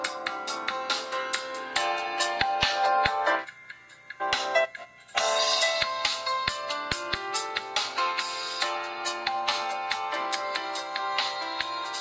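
Video soundtrack, music with sharp ticking percussion, plays through the small speaker of a Celero 5G+ smartphone, fairly loud with a brief drop in the middle.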